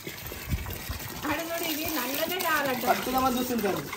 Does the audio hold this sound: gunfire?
no